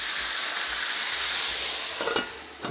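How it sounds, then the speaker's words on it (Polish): Water is poured over pork ribs in a hot pot for Silesian braised ribs, giving a steady hissing sizzle that fades slightly, with a few soft clunks of the pot near the end. "I teraz musimy udusić nasze żeberka, więc zalewam je wodą"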